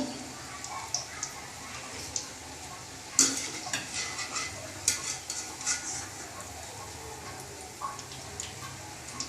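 Fried cabbage pakoras being lifted out of hot oil onto tissue in a bowl, a soft continuous sizzle under scattered clinks and scrapes of a slotted spoon against the pan, with a voice talking over it.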